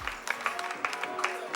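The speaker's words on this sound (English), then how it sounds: "With a round of applause, let's welcome Yenupong." Brief applause from an audience welcoming a contestant onstage at a pageant, quick scattered claps of moderate loudness over a background of faint voices.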